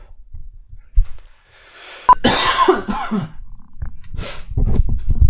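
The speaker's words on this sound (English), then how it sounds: "Sorry about the cough." A couple of sharp, close coughs burst out, followed by rustling and low thumps, with no talking.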